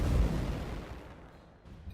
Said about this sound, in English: So we can fire torpedoes here and deal damage to him.